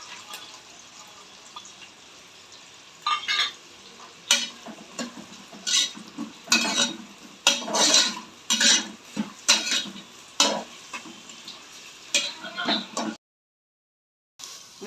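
Cashews fry in oil in a pot for Muslim-style white kuska, with a spoon scraping and stirring in repeated bursts over a soft steady sizzle, then a brief silence near the end.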